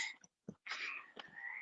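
Frogs croaking in the background, faint rasping calls in short bursts with brief gaps, heard distantly behind a quiet room.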